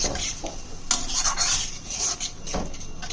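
Milk being stirred into soybean korma in a pan: a spoon scrapes and clinks against the metal pan in irregular strokes, close and fairly loud, with a light sizzle underneath.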